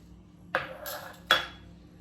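A spoon clinks twice against a bowl while stirring potato wedges coated with spices and potato or corn starch, two sharp close knocks over quiet background.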